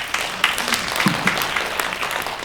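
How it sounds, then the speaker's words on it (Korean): Brief audience applause at a Korean National Assembly suicide-prevention seminar discussion, scattered claps from a modest crowd with a low voice murmuring underneath, short and moderately loud. "큰 박수 부탁드리겠습니다."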